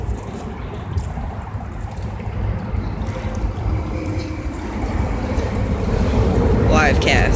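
Traffic from a highway bridge roars as a steady broadband rumble outdoors, mixed with wind buffeting the microphone, swelling slightly louder toward the end.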